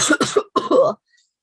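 A few short coughs in two quick bursts, close and clear, followed by silence.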